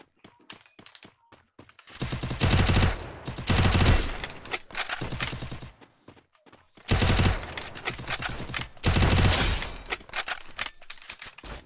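Bursts of automatic gunfire in the mobile shooter Free Fire, two long loud volleys separated by pauses, with a few sparse isolated shots and faint clicks in between.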